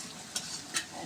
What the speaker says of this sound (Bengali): গোটা কয়েকটা রসুন দিলাম, লাল লাল করে ভাজা হয়ে গেছে